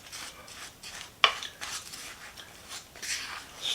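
A spoon stirs oatmeal and raisins into oatmeal cookie dough with pumpkin spices, making close, soft scraping and rustling strokes in uneven rhythm, with one sharp clink of metal against the bowl.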